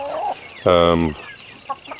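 Hens clucking nearby as they are moved out of a coop, a short burst of throaty calls with a few softer clucks before and after.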